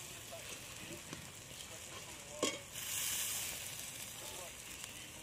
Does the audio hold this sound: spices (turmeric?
yes